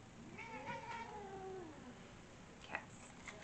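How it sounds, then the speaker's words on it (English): A house cat meows in a drawn-out, wavering call near the start, followed by a few shorter faint chirps, fairly quiet against a soft room hiss with no talking. "cats."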